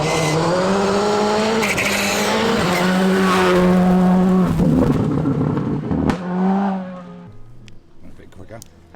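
The course car laps a race circuit, its engine revving up and down loudly through gear changes with tyre squeal mixed in, while people talk over the sound close to the microphone.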